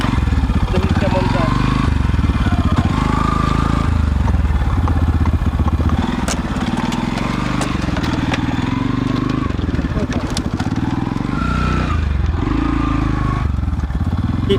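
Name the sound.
motorcycle riding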